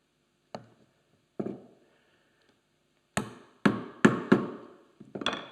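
A chisel is tapped into soft pine with a mallet: a few sharp, close knocks spaced apart, then a quicker cluster of firmer blows, each decaying quickly into silence.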